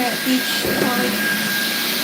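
A vacuum cleaner runs with a steady, loud whining drone throughout a house cleaning before a party, with a voice briefly heard beneath it.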